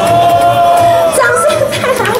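At a stage event at a booth during the Taipei digital camera and audio-visual expo, a crowd answers the host with screams and whoops. The voices are loud and rise in a brief burst over an amplified background.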